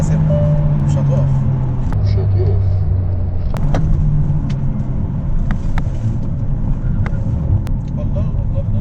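Hyundai Elantra N Line on the road: a loud, steady engine and tyre rumble fills the whole stretch, broken by a few sharp clicks and knocks, with voices faintly mixed in.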